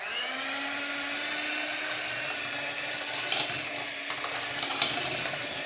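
A kitchen mixing machine whirs steadily, blending spices into ground donair meat with a constant high motor whine and occasional clunks of the mixture against the bowl.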